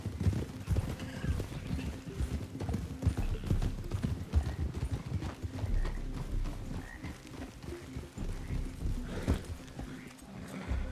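Horse hooves of a buckskin Mustang clip-clop in a steady galloping rhythm within the Red Dead Redemption 2 game world, close and continuous across the clip, with brief whinny-like sounds and croaking frogs in the background.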